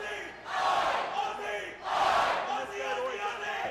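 A wrestling crowd roars in support of the tag team Aussie Open at a STRONG match, a dense, loud wall of cheering that swells in two big waves and stays noisy between them.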